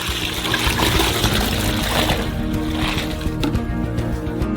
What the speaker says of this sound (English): pour 8 liters of milk into a saucepan in advance